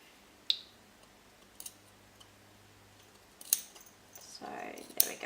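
Scissors snipping fabric close to a line of stitching while making a frilly cloth doll, a few separate crisp snips spaced apart in a quiet room, followed by a brief rustle of the fabric.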